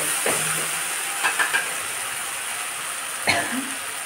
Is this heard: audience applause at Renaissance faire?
no